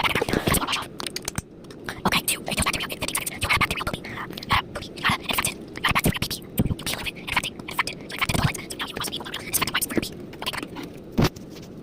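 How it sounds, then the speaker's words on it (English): Close-up chewing and biting: wet crunching, scraping mouth sounds in an irregular rhythm that runs throughout, loud and near, with a whispery texture and no clear talk. "Stop chewing!"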